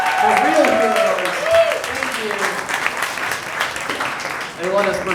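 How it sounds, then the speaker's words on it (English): An audience at a Halloween comedy show at The Milk Parlor applauds in a steady wash of clapping while voices talk and call out over it, the clapping continuing under the speech. "Big round of applause for those working here at the Milk Parlor, the real heroes."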